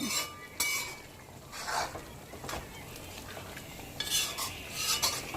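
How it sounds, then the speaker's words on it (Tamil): Chicken sautés in a pan for a Tamil chicken kuzhambu, with repeated close scraping strokes of a spoon against the pan over a quiet, steady sizzle. "நல்லா வதக்கலாம் சிக்கன் நல்லா வதங்கட்டும்"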